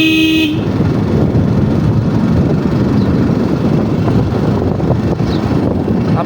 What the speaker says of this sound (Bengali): আপনার এই হর্নের জন্য